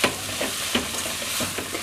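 Pomegranate paste and ground walnuts sauté in a pan, a close, busy sizzle broken by several quick spoon stirs and scrapes in a short burst.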